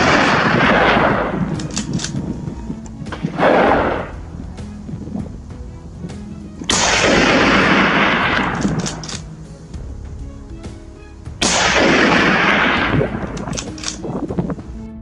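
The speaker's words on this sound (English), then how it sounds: "the first gunshot echoed through the hills" Three loud gunshots on a wild boar hunt, widely spaced, each booming and rolling away in a long echo across the hills, with no voices.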